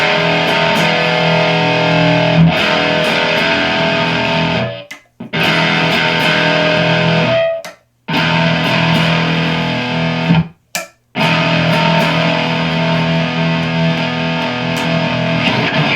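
A heavily distorted electric guitar, a Kiesel Type X headless, plays loud sustained chords, cutting out briefly a few times before ringing on again, with no talking.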